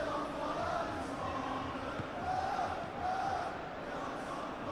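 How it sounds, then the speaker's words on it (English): Football stadium crowd in the eFootball PES 2021 video game, Tottenham against Brighton, a steady roar of cheering spectators with swelling peaks, fairly faint and broad, no commentary over it. "Well, the crowd clearly like what they just saw."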